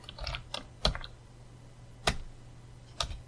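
A few scattered keystrokes on a computer keyboard while writing Python code for a pygame project, soft isolated clicks with pauses between them in a quiet room.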